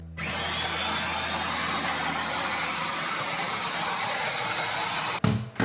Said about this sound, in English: just close your food processor and process until it does become a cream